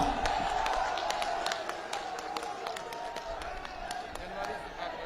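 Crowd at a political rally in Lucknow clapping, a steady wash of many hands with scattered sharper claps, moderately loud and continuous, with voices underneath.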